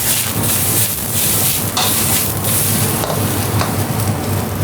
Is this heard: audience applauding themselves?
no